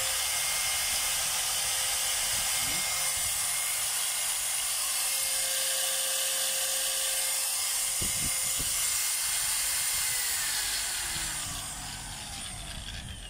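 A DeWalt DW810 4-inch angle grinder runs under test with a loud, steady high-pitched whine and hiss, then spins down and fades near the end.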